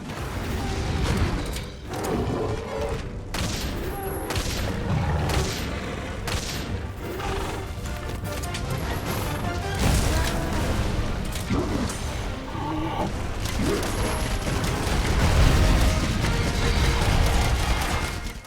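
Gunfire from a hunter shooting at a monster in Monster Hunter: World, with repeated shots, booms and mechanical clatter mixed into dense, continuous battle sound and music throughout.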